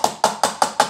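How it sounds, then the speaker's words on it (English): A KitchenAid blade chop coffee grinder is tapped to loosen stuck grounds: five sharp, evenly spaced knocks in quick succession, close and fairly loud, with no talking. "tap this, see if it comes out"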